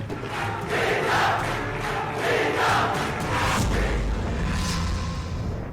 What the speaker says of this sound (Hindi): छात्र संघ के चुनाव को लेकर छात्रों ने कॉलेज प्रशासन के खिलाफ नारेबाजी की